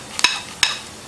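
Black pepper frying in ghee in a hot kadai: two quick crackling bursts over a faint steady sizzle, close and fairly loud, without speech.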